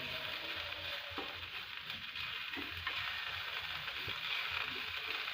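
Ginger garlic paste and chili powder being stirred in a frying pan for a red gram seed curry, with a steady soft sizzle of frying and faint scraping of the spoon throughout, no voices.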